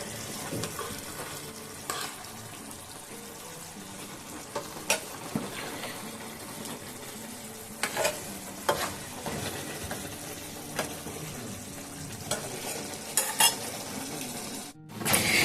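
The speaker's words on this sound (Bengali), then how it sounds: "এবার এটা খুব ভালোভাবে ফুটে গেলে তারপরে আমি নামিয়ে নেব।" Fish curry bubbling and simmering in a pan, a steady soft sizzle with occasional clinks of a utensil against the pan, no voices.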